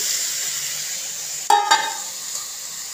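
Vegetables fry in a pan with a steady sizzle throughout, broken briefly near the middle by a couple of sharp scraping stir strokes of a utensil against the pan.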